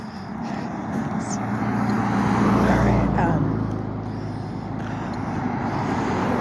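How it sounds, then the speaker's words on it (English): Cars driving past on a road on a dark, chilly morning walk, one vehicle's rumble swelling near the middle and fading, with a person talking over the traffic. "here come the cars."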